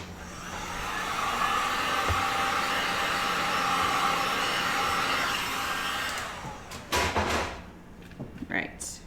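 A heat tool runs steadily for about six seconds with a loud, even blowing roar, then cuts off and is followed by a few handling clunks and knocks. A voice speaks briefly.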